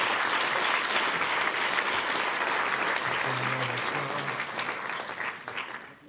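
A hall audience applauds steadily at an honour roll ceremony in Épinal, 2018, with dense, continuous clapping that holds for several seconds and then starts to fade toward the end.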